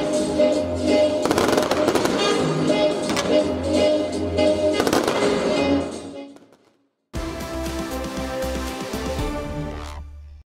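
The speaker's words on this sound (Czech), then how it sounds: "Letošní novoroční ohňostroj v Hradci Králové si nenechali ujít tisíce lidí." New Year fireworks over the main square in Hradec Králové crackle and pop in dense rapid bursts with a constant low rumble beneath. The sound breaks off briefly, then a second stretch of crackling follows.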